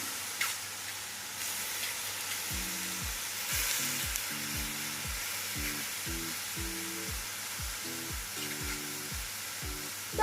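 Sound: oyster mushrooms frying in a pan

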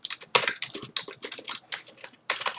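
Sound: typing on a computer keyboard

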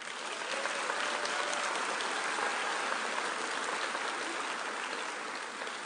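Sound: graduates' applause at commencement

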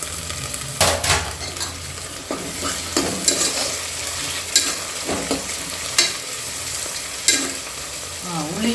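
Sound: stirring masala and tomato frying in a pan for biryani

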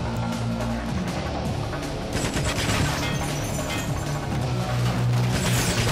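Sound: gunfire in video game GoldenEye Rogue Agent

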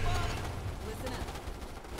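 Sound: shotgun gunfire in the video game Starship Troopers: Terran Command

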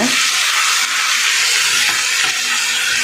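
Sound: sautéing minced mutton with masala in a pan

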